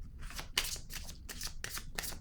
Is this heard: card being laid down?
yes